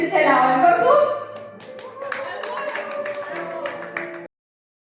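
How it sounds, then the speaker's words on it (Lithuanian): Wedding guests clap along together at a wedding, a dense burst of applause that starts loud and then settles into steadier, lighter clapping with scattered sharper hand strikes until it cuts off. "O mes jos lydim plojimais ir keliaujam kartu."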